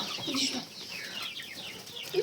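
Chickens cluck softly and intermittently nearby, with scattered low calls over a quiet outdoor background.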